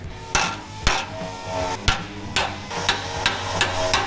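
Sharp metallic ball peen hammer blows on a car's sheet metal body panel, about ten strikes at a steady, slightly uneven pace, close and loud with ringing tails.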